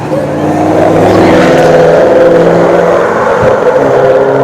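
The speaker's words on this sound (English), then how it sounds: "The noise. Traffic. Thousands of cars each day." Steady roar of passing car traffic, a loud continuous engine and tyre drone that swells and holds, with one brief thump near the end and no clear talk.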